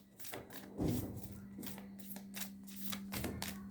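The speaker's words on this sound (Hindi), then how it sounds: "मैं पहले कार्ड्स निकालूंगी फिर इंटरप्रेट करूंगी" Tarot cards are drawn and flicked from a deck, soft papery slides and quick snaps in an irregular run, close and quiet over a faint steady hum.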